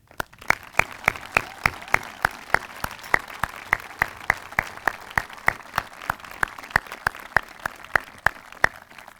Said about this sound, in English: I want to do one more round of applause for all of our veterans here today